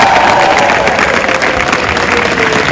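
An audience at a business show in Birmingham applauds a guest speaker, a loud dense wash of clapping with a few cheers throughout.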